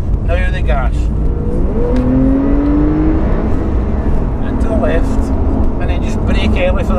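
Porsche 911 engine pulling hard on a racing circuit, a loud steady roar with rising pitch sweeps as it accelerates, with someone talking over it.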